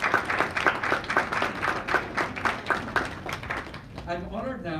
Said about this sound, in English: I want you all to actually give all of us a round of applause